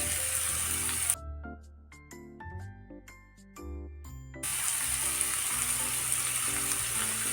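Okra and egg frying together in a pan for a bhindi egg fry, a steady loud sizzle that drops away for a few seconds, leaving small clinks and tinkles, then returns at full strength.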